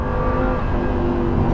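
A Lamborghini 550/2 Valentino Balboni under acceleration, its engine a loud, steady, close roar with a strong low drone that holds through the whole moment.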